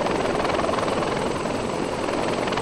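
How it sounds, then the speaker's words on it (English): A helicopter in a military video game holds a loud, steady rotor thump and engine drone, close and unbroken throughout. "There's another chopper right in front of us."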